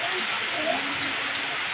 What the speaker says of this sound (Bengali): নিয়ে অনেক বৃষ্টি শুরু হয়ে গেছে